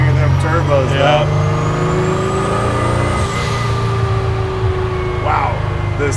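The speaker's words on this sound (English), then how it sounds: "Oh, we get to hear them turbos now." A custom twin-turbo Ford GT40 restomod idles and revs loudly up close, its steady engine drone rising with a whistling turbo spool, while someone talks over it at the start and end.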